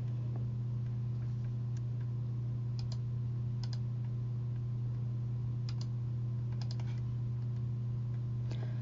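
Someone types a search into a library catalog on a computer keyboard, producing sparse, faint key clicks in small bursts over a steady low electrical hum.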